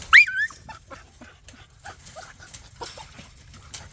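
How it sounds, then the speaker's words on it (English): American Bully puppies whimper and yip in a kennel, with one sharp high whine near the start followed by scattered soft whimpers and small shuffling sounds, close by and fairly quiet. "There's some of the pups."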